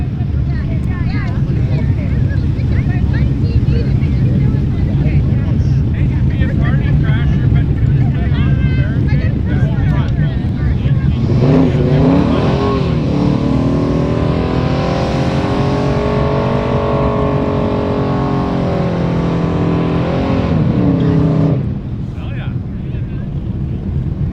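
Race cars warming their tires on a cold track at the Little Nugget Showdown in Lillooet, B.C.: a droning engine note rises midway and holds for several seconds over heavy wind buffeting, with voices talking throughout.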